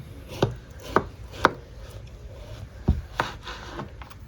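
A knife cuts through a ripe papaya, giving several separate crisp chops and taps on a board, spaced about half a second apart, close and clear with quiet pauses between.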